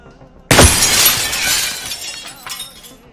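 A window pane shattering in Receiver 2, one sudden loud crash followed by falling, tinkling shards that fade over a few seconds.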